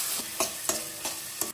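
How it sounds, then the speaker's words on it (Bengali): Ground spices (cumin, garam masala, Kashmiri red chili and red chili powder) sizzle as they are fried in a pan, with steady hiss and a few sharp stirring scrapes at regular intervals. "সব মশলাগুলোকে একটু কষিয়ে নেব"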